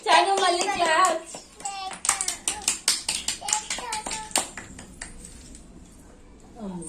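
A young girl claps her hands in a quick run of sharp, close slaps at home, with her voice and an adult's speech before and around the claps.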